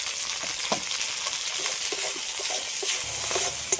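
Chopped tomato and green chillies fry with onion in a pan, giving a steady close sizzle with a few soft clicks and stirring scrapes.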